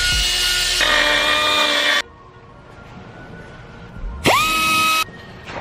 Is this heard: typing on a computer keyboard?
no